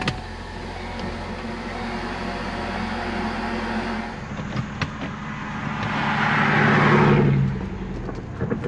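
A Ford Focus ST with a 6-speed manual transmission and a freshly bled clutch cranks and fires; a steady low engine hum builds into a louder rev swell near the end before settling, with no talking.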